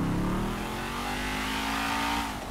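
A car engine in Grand Theft Auto V revs hard, a loud mid-pitched growl that climbs slightly in pitch and then settles, with no talking over it.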